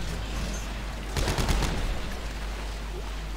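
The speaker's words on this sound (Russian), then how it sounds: "У меня очень классное оружие, я когда стреляю" Rapid gunfire bursts from the video game Dead Space 3, a short flurry of shots in the middle over a steady low game drone, with no talk.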